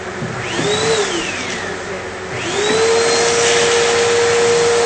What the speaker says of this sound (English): I'm gonna vacuum my drawer real quick.